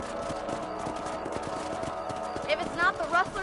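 Horse hooves clip-clopping at a steady galloping rhythm in the Western video game Red Dead Redemption, close and continuous, with voices and a whinny-like call rising near the end.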